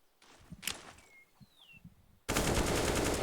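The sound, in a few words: AK rifle gunfire in CS:GO video game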